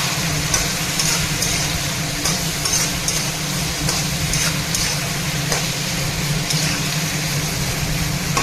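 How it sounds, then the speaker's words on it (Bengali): Eggplant frying in a pan while being stirred, giving a dense, continuous sizzle with soft scraping throughout, close and fairly loud. "বেগুনটা নাড়াচাড়া করে আমি ঢাকনা দিয়ে দিব"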